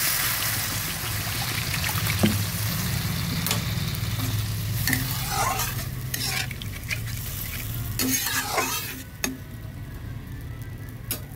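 Water is poured onto potatoes frying with spices in a pan for a katla fish curry, giving a hissing sizzle, followed by repeated scraping stirs of a spoon against the pan.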